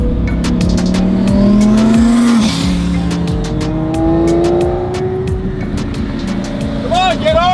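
An Audi R8 sports car drives past with a steady engine note rising and falling, and its tires squeal in long sustained streaks. A voice speaks under the engine noise.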